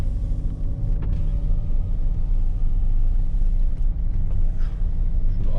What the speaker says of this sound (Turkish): Gaza basalım. Şöyle çıkalım bakalım.